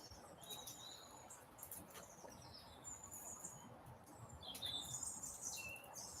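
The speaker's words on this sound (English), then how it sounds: "maybe aware of the sounds of the birds" Small birds chirp faintly outdoors in short, scattered high tweets over a steady soft background hiss, distant and calm throughout.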